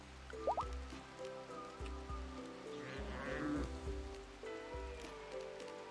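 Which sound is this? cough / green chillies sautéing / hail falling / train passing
hail falling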